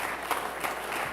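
Congregation applause at an Igbo Anglican church harvest thanksgiving service, a steady, dense wash of clapping from many hands filling the room throughout.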